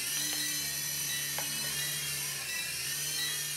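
A small UDI RC U12S WiFi FPV toy helicopter hovers indoors, its rotors and motor giving a steady, loud high-pitched whine with a few faint clicks and no speech.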